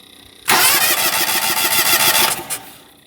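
A Honda 4518 small engine is pulled over and catches at once, running loudly and steadily with a fast, even firing rhythm for a couple of seconds before cutting back and fading.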